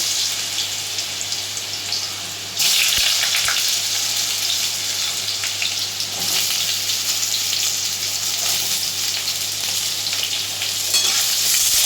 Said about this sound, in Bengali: দুটো ঝিঙে ডুমো ডুমো করে ছাড়িয়ে কেটে রেখেছি সেগুলো তেলের মধ্যে দিয়ে দেব